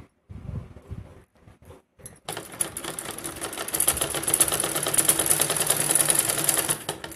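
Electric sewing machine stitching buckram into the neckline band of a kurti; after a couple of brief starts it runs steadily with a rapid, close mechanical rattle of the needle and a high whirring motor tone.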